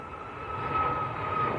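Ryanair airliner getting airborne at Manchester Airport, a brief steady jet engine roar with a high whine, moderately loud and heard alone.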